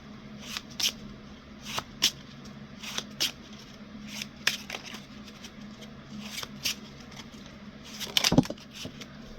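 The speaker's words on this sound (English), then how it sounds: "I'm just going to draw a card and see if it is." Tarot cards are handled at close range, with repeated short riffling and snapping card sounds spaced irregularly over a quiet background hum, ending in a louder burst of shuffling.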